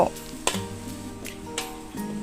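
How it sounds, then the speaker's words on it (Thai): Garlic and shallots stir-fried in a pan sizzle up close, the steady hiss punctuated by several sharp scraping strokes of the spatula at a regular pace. "ใส่ กระเทียมแล้วก็หอมแดงลงไปผัดนะเจ้า"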